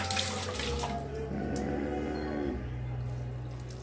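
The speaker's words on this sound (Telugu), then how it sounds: "వాటర్ పోస్తున్నావా?" Water pours steadily onto potted plants at home, a continuous close splashing and running-water rush that holds for several seconds without pause.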